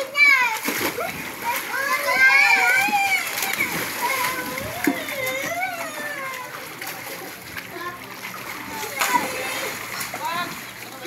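Children splashing and bathing in water outdoors, with steady watery splashes and sloshing beneath lively overlapping kids' voices and an adult talking throughout.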